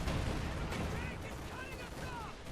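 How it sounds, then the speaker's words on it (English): Distant artillery fire rumbles through a World War II real-time strategy battle, a low continuous booming wash with faint whistling shells arcing overhead, steady and far off rather than sharp. "Some sort of artillery coming in over here, though."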